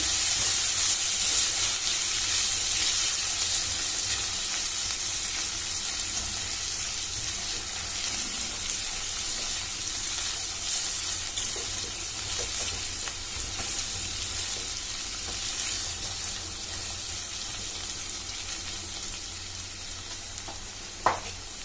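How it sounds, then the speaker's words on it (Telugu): Moong dal frying and being stirred in a pan for a Telugu amaranth-leaf curry, a steady close sizzle and hiss with soft scraping of the spoon throughout, no talk. "పెసరపప్పులోని ఇప్పుడు పచ్చివాసన పోయే వరకు కలుపుకొని పెట్టుకోవాలి"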